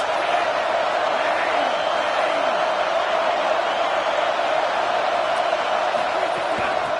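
A stadium crowd roars steadily behind the defense on a big third down in a UCLA versus Georgia college American football video game. The broad, continuous noise runs beneath a voice talking over it.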